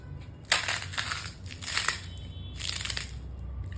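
Fried javvarisi (sago) vadam crisps crunch and crackle loudly as they are crushed by hand, in three separate close bursts of brittle breaking with short pauses between them.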